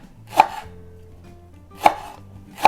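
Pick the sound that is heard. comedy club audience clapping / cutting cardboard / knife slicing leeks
knife slicing leeks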